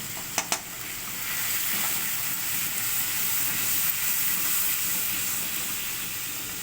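Cumin seeds sizzle in hot oil with ginger and a splash of water in a pan, a steady hissing fry after a couple of sharp clicks at the start, no voices.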